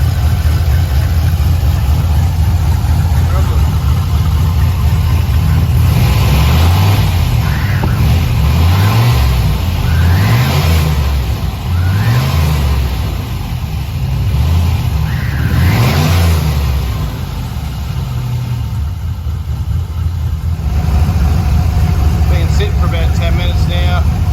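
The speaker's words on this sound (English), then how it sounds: "The turbo's spinning good." A turbocharged LS V8 engine idles and revs in several rising and falling bursts, loud and close, with a steady hum underneath and the turbo spinning.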